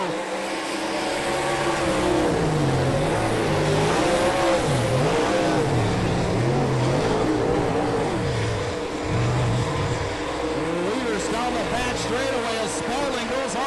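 Dirt track race cars in a heat race roar down the back straightaway, their engines loud and continuous with rising and falling revving sweeps as they pass, and voices faintly present beneath the engine noise.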